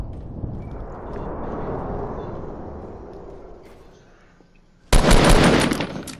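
Gunfire in the Fortnite video game, with a sudden loud, dense burst of rapid shots near the end after a stretch of low rumbling game ambience.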